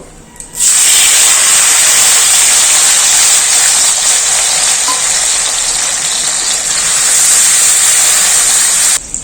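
Chopped tomatoes hitting hot oil already spiced with cardamom, cloves and cinnamon, giving a loud, steady sizzle and hiss that starts abruptly and holds strong to the end, with no talking.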